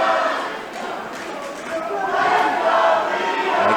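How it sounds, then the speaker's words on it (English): At a kickboxing fight, fans roar and cheer loudly for their fighter with a continuous crowd din that swells toward the end. Voices shout throughout. "The fans are right behind Gallagher. You can hear them cheering loudly for their boy."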